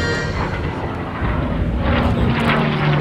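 A P-51D Mustang performs a slow roll at an airshow. Its piston engine gives a continuous loud, rough drone that swells slightly as the aircraft passes.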